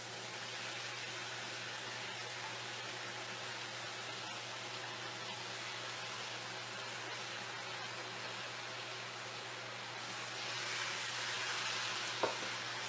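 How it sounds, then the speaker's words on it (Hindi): Fried eggplant is stirred into onions and spices in a pan for achari baingan, with a steady, close hiss of sizzling oil running throughout and a brief clink near the end. "बैंगन डालकर मिक्स कर देंगे"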